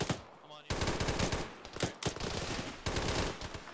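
Heavy automatic gunfire in an Arma military shooter game rattles in repeated close bursts. The loud, dense volleys carry a faint voice underneath.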